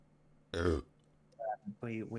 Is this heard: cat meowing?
no